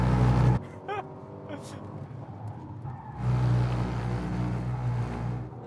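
A Mercedes C63 AMG drifting on a track, its engine roaring loudly then dropping back before surging again under power, with tire and exhaust noise up close.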